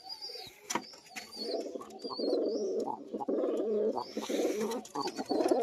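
A high-flying pigeon coos in low, rolling, repeated phrases close by, with some faint chirps and light rustling around it.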